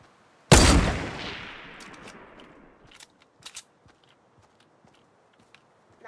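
One sharp, loud Fortnite Battle Royale gunshot cracks close by and rings out in a long fading tail, followed by a few faint scattered clicks and taps.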